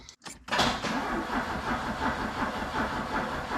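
A Fiat Spider's turbocharged engine cranks repeatedly without catching, a steady grinding whir that runs on after a brief pause at the start, close and loud.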